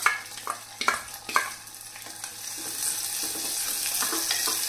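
Onions and green chillies frying in a clay pot, stirred with a utensil: a few sharp scraping strokes at the start, then a steady close sizzle that swells and holds, no talking.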